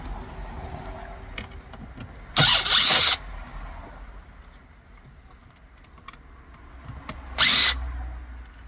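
A power tool whirs in two short bursts while backing out screws from the radio trim of a 2014–2016 BMW X5, each burst loud and close against a quiet background.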